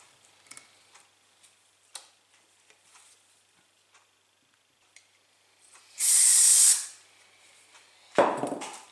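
A loud, steady hiss of cleaner spraying through a part of an old Japanese motorcycle lasts about a second, followed by a sharper burst of spray. Faint ticks and small clicks come before it.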